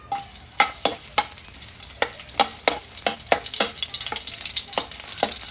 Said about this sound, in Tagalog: So, una po natin gagawin ay, igigisa po natin ang bawang.